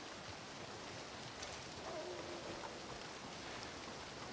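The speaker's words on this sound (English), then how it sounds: "luckily it's raining" Steady rain falls in the Red Dead Online game world, a dense even hiss of drops on surfaces that holds constant throughout with no break, fairly faint and continuous.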